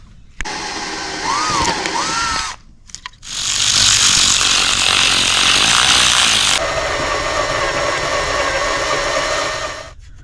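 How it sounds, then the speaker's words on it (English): A power drill bores holes into a car dashboard during classic air ductwork installation, running loud and close in long whining bursts with a short pause between runs and a shift in pitch as the bit bites. "we're going to start drilling these"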